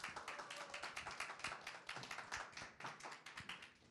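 Audience applause at a political party presentation event in Korea, a quick run of many close hand claps in a steady patter, fairly faint and alone.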